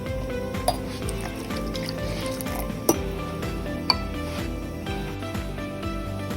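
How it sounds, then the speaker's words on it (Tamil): Water poured over squeezed grated coconut in a vessel to draw the second coconut milk for sodhi kulambu: a steady, close wet pouring and squishing texture, broken by three sharp clinks of metal or glass, with no talking. "இப்போ நம்ம 2வது பாலுக்கு தண்ணியை ஊற்ற போகிறோம்."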